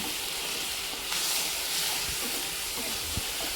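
Chicken gravy with chili flakes being sautéed in a pan over a low flame gives a steady, close sizzling hiss with a few small pops and crackles.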